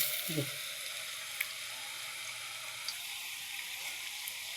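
Potatoes frying in a pan give off a steady, soft sizzle that fills the whole stretch, close and fairly quiet, with a faint low thump and scattered small pops.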